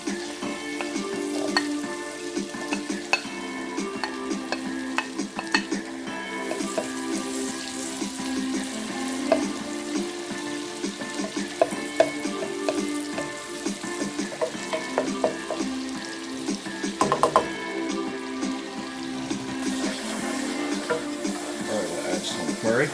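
Onions fry in a pan for a vegetarian dish with a continuous close sizzle, broken by repeated scraping and clinking as they are stirred.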